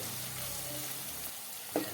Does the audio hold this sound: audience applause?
no